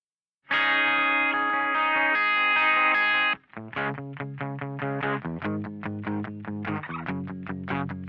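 Guitar solo played back from a Pro Tools session: a sustained, heavily processed electric guitar note rings loud for about three seconds, then gives way to a run of quick plucked notes with a chorus-like shimmer, alone with no talking.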